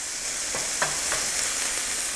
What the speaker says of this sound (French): Un petit coup de spatule.